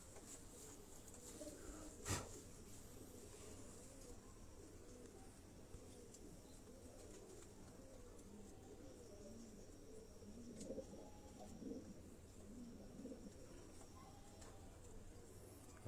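Pigeons coo softly and continuously at a pigeon flying competition, a steady low murmuring across the whole stretch with a sharp click near the start and faint background noise.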